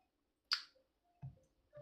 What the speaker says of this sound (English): I don't know what I did. I clicked on something.